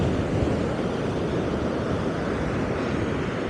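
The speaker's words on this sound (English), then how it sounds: "Still extremely windy," Strong wind roars across an open beach on Fire Island, mixed with crashing surf, a dense, constant loud rush with buffeting on the microphone and no pauses.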